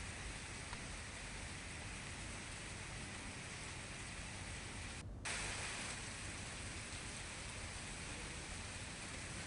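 Heavy monsoon rain falls across Sabarkantha and Mehsana in Gujarat, a dense, even roar of hiss that continues unbroken at a moderate, distant-sounding level.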